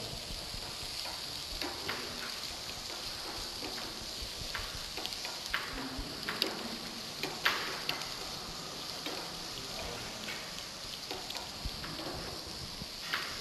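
Finely chopped onions fry in a pan with a steady low sizzle and occasional stirring clicks and scrapes, fairly quiet and without voices.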